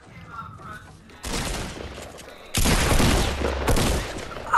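Loud blasts from a blue pump shotgun in the Fortnite video game arrive as a few sharp, booming bursts with noisy tails, close and dominant, following a short quiet stretch at the start.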